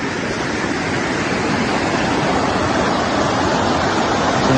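A river rushes steadily and loudly downstream beside a path at a Bogor eco camp, forming a dense, unbroken wash of water noise throughout.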